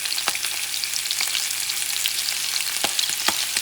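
Minced garlic frying in a pan as part of a mofongo with shrimp in sauce, giving a steady loud sizzle with a few sharp crackles and pops throughout, no talking.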